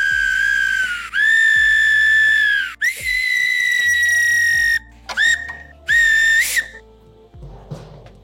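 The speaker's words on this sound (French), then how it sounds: "on a fait un petit sifflet." A small 3D-printed whistle made on a Prusa MK4 is blown in several loud, shrill blasts, some long and steady and some short, with brief gaps and a pitch that bends at the start of each blast.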